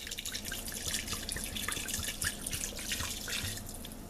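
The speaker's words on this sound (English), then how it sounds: "Now we're going to add the Chianti." Chianti Gabbiano red wine pours from the bottle into a cooking pot in a steady, gurgling splash with dripping and trickling liquid, close and continuous throughout.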